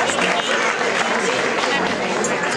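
Sustained applause and crowd noise fill the room at a live Greek music show, a dense, steady wash of clapping with some audience chatter mixed in.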